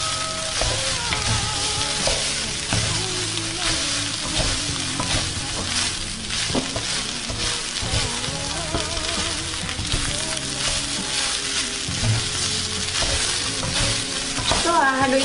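Fried rice with meat being stirred in a hot pan, a loud continuous sizzle and crackle with repeated scraping and clattering of the spatula throughout, up close and unbroken.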